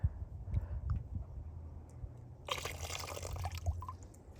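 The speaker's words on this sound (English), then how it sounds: "Let me change the water." Water being poured out of a small container and refilled with clean water while rinsing sand for gold recovery, a brief trickle giving way to a louder, close splashing pour in the second half.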